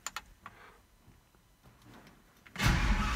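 Faint scattered clicks and ticks come first, then a loud, rough burst at the very end as a 1972 Chevy C10 engine cranks on a low battery.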